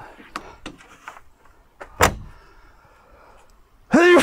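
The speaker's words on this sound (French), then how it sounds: "quand je ferme les portes" Doors of a Safari Condo Junior camper van being closed, a few sharp thunks and a louder slam, then a final heavy door sound at the end.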